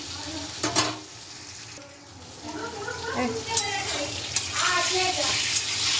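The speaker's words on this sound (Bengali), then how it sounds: "দাঁড়া একটু লাল লাল করে ভাজি" Whole pointed gourds fry in hot oil until reddish, giving a steady close sizzle with occasional spatula scrapes while a voice talks over part of it.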